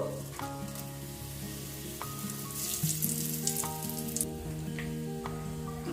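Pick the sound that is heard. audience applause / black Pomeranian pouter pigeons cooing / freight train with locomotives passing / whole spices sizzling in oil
whole spices sizzling in oil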